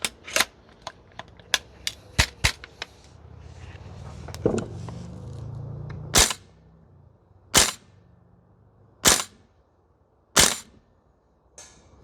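A VFC URGI V3 gas blowback airsoft rifle fires with sharp, snappy cracks, first a quick cluster of shots, then evenly spaced single shots ringing out loudly nearby.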